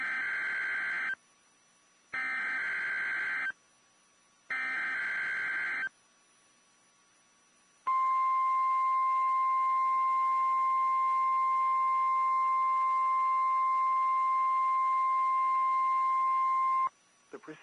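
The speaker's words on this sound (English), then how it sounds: "The preceding was a test of the National Weather Service warning alarm tone." A National Weather Service warning alarm test plays first as three short pulsed beeps, then as a long steady loud tone of about nine seconds that cuts off abruptly.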